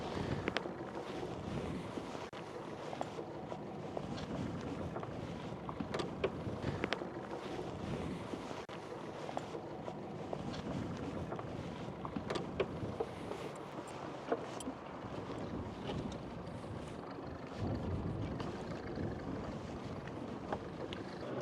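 Sailboat docking in high wind with its engine running in reverse, a low steady drone under constant gusting wind noise and water sounds, with no talking.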